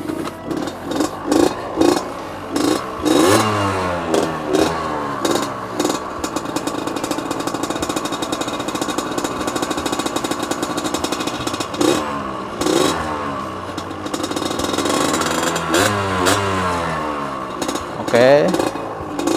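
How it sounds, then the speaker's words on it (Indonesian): A Jet Darat RX Spesial motorcycle engine fires up and runs loud and close, with a rough clattering idle and repeated throttle blips that rise and fall through the whole stretch. "Mari kita hidupkan mesinnya."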